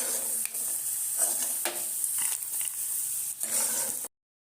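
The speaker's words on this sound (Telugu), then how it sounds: "పల్లీలు దోరగా వేగిపోయాయండి" Peanuts fry in a pan for Rayalaseema-style lemon rice, producing a loud, steady hissing sizzle with short scraping stir strokes, before cutting off abruptly near the end.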